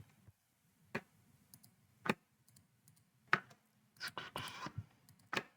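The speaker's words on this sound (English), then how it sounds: "If you're wondering what these clicking sounds are now, I am opening a document on Medibank." A computer mouse clicks sharply and sparsely in a quiet room while a document is being opened. A short burst of clatter sounds midway.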